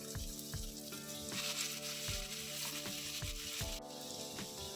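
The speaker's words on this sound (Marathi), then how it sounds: "आणि आता ही मॅगी टाकून घेऊया आपण" Maggi noodles with red chilli powder and chilli flakes fry in a pan, a soft, steady sizzle under a rhythmic background of repeated thumps and sustained tones.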